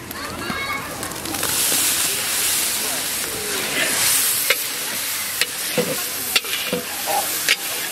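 Village-style ground spice paste of coriander, cumin and dried red chilli with salt and turmeric frying for country chicken curry, a loud continuous sizzle and hiss with stirring scrapes and a few sharp clinks near the end, voices partly over it.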